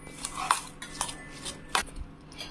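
A spoon works soft, well-cooked rice for curd rice in a vessel, giving several light scrapes and clinks against the pot, spaced irregularly and close by.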